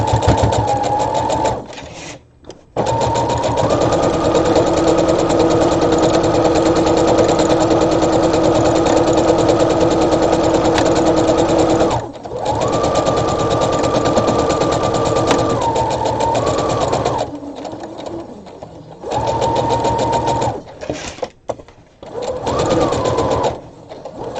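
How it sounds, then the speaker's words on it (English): Sewing machine stitching across the opening of a round lay-flat drawstring bag, a close, rapid mechanical whir in long continuous runs broken by brief pauses and a few short bursts near the end. "And I'm just going to stitch right over it."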